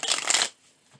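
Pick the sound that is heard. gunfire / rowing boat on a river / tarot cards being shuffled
tarot cards being shuffled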